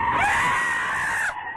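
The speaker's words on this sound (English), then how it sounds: "Was that you or me that screamed" A person lets out one loud, sustained scream that holds for over a second and then cuts off abruptly, with nothing else heard around it.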